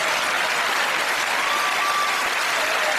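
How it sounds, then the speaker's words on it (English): A television quiz show studio audience claps steadily and loudly, a dense unbroken wash of applause with no voices over it. "Why are we applauding them?"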